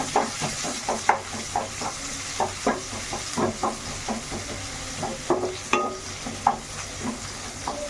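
Onions frying in a pan for Odia chana masala, a steady sizzle with repeated stirring scrapes and clinks of a utensil throughout, close and fairly loud, no talking.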